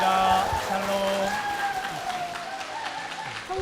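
A church congregation gives the pastor and the mission society a round of applause. The clapping is steady and moderately loud over a faint musical tone and a few murmuring voices.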